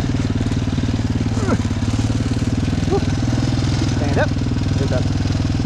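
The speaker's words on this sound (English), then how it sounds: "I'm probably gonna stall the bike right here." A motorcycle on a muddy trail idles with a steady, close engine thrum and small throttle changes. Someone speaks briefly over the engine.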